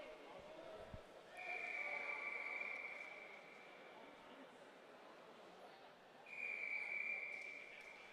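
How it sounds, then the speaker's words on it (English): An official's whistle sounds two long, steady blasts, a few seconds apart, at an indoor prep boys' swimming championship pool. Soft hall ambience sits beneath. "the official whistles bring us on to our"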